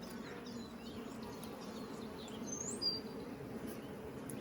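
A huge caught honeybee swarm buzzes around its hive during an open-hive checkup, a steady low drone of many bees close by with a few faint higher chirps above it.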